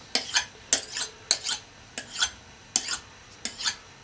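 A kitchen knife is drawn along a sharpening steel in quick strokes, about six distinct metallic swipes at a brisk, slightly uneven rhythm. The strokes are close and clear against a quiet background.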